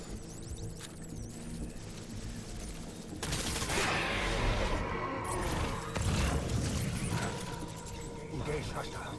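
Bursts of gunfire in the video game Death Stranding on PS4 Pro, a dense rattling volley that swells mid-clip over a steady hum, mixed with mechanical clanks and faint game voices.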